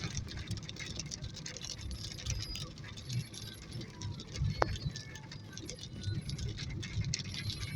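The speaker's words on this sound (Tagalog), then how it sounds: "lumakas pa ang ulan" Heavy rain pours down at night onto a street lined with houses and trees, a steady, dense patter that fills the whole scene without a break, with one sharp tick near the middle.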